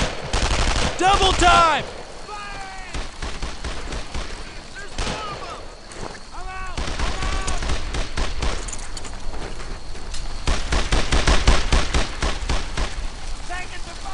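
Machine gun fire in the World War II shooter Brothers in Arms: Earned in Blood, with loud, dense bursts of rapid shots and scattered single cracks that continue throughout, mixed with soldiers shouting over the gunfire.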